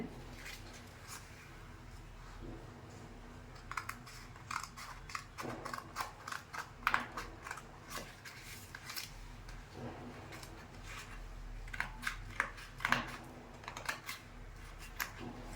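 Scissors snip through blouse sleeve fabric while a pattern is cut, a close series of crisp, irregular cuts with short pauses, quiet overall with no talking.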